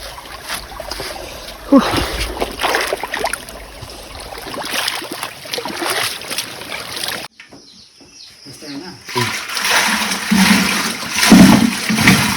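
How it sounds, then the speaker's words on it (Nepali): A village stream in the Sindhuli jungle flows with a continuous rushing, splashing wash, loud and near, briefly cut off midway before resuming. "गाउँको खोला"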